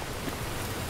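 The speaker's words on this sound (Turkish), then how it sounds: "Çünkü yağmur sesi çok rahatsız edici olabiliyor." Steady rain in the Farming Simulator 22 video game, a dense, even hiss with no breaks, alone and without talk.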